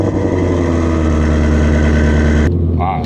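A 2017 Shelby GT350R with a 1000R twin-turbo upgrade idles with its exhaust valves closed, giving a steady, loud, deep rumble up close that cuts off sharply near the end.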